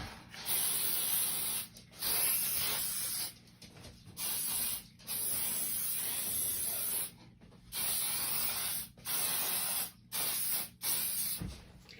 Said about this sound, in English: you want to spray your hairspray over the entire frame and give it a really good thick coat